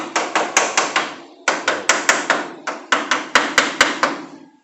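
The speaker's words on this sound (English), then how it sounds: "Tap it with the hammer a little bit." Sharp, ringing hammer taps on metal in quick bursts of four to five blows, separated by brief pauses, close and loud.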